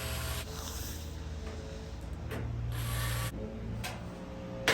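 A power driver whirs and ratchets as screws go into the lower cover of a Maytag Bravos XL electric dryer, a close mechanical buzz in several short bursts over a steady background hum.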